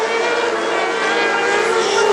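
Open class racing karts passing on a circuit in a dense, buzzing high-pitched engine roar that holds steady and swells slightly as they go by.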